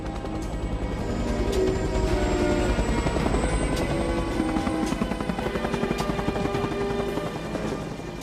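A military helicopter taking off, its rotor chop a loud, close, continuous pulsing beat over a heavy engine roar, sustained throughout without letting up.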